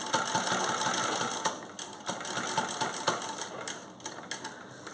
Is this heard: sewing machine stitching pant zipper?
yes